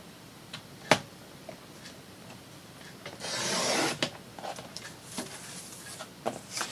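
A quarter inch being trimmed off a piece during steampunk journal crafting gives one close, rasping cutting stroke lasting about a second, with quiet scattered handling taps and clicks around it.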